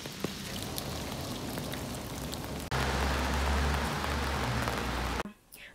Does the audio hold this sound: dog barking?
no